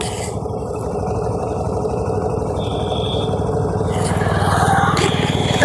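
Several motorbikes ride along a rough, broken road on the way to a beach, a loud continuous engine drone close by with rising rumble toward the end.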